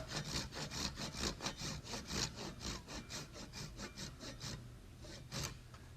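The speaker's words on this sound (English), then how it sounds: "And now I'm just cutting it out." A hand saw cuts a half-inch strip from the side of a wooden cabinet in a close, loud, rhythmic run of rasping strokes, slowing and ending with a few last pulls.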